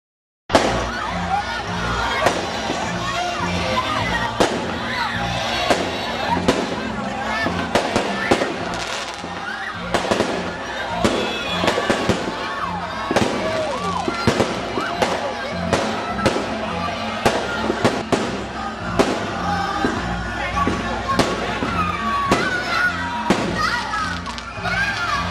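Fireworks crackle and pop in dense, rapid bursts at a Christmas tree lighting in Greece, continuing throughout over a lively crowd with children's voices and chatter.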